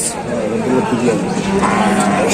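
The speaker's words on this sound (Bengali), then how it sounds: "এই গরুটার দাম কত চাচ্ছেন" A Friesian-local cross cow at the Ekdanta cattle market in Pabna gives a low, drawn-out moo close by, heard over a steady murmur of crowd chatter and people talking nearby.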